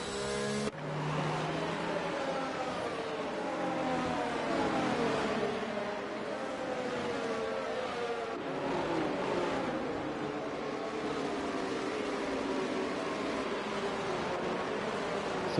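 Race cars in a PlayStation racing game at the Singapore circuit, several engines droning and overtaking one another, a steady unbroken roar with shifting pitch throughout, no voices over it.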